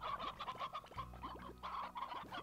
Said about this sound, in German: Wir haben ja noch Chickadoos hier.